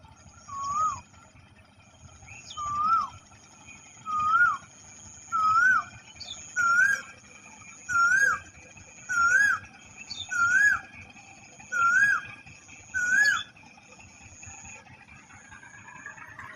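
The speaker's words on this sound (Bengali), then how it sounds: "কোকিলের ডাক আপনারা শুনতে পারতেছেন কিনা জানি না।" Asian koel calling outdoors beneath a bridge, a series of about ten rising whistled notes repeated at steady intervals, clear and moderately loud over a quiet murmuring background.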